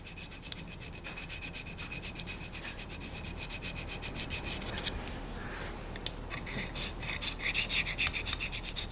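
A handplane blade is honed at a 45-degree angle on a DMT diamond plate, giving a steady, continuous rasping rub close up that grows slightly louder and more gritty toward the end.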